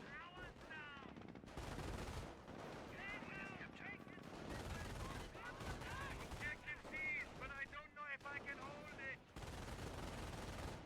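Machine gun fire from a PhoenixMod tournament match rattles in dense bursts, separated by short gaps, and commentators talk over the battle noise.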